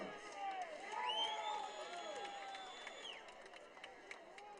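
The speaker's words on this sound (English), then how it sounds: "We got the student section cheering loudly" A high school student section cheers and whoops at a Malvern Prep versus Imhotep varsity football game, a sustained crowd roar of moderate loudness with rising and falling shouts and whistle-like cries.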